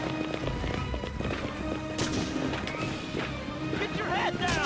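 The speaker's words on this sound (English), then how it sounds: "What are the endless, delicate footsteps?" Soldiers' footsteps in the video game Medal of Honor: Frontline patter quickly and lightly amid a dense game mix of gunfire cracks, explosions and other effects.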